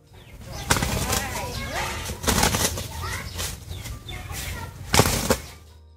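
Fighting roosters beat their wings in loud bursts of flapping, three strong flurries with scattered clucks and scuffling between them, close by.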